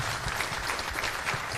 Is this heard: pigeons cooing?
no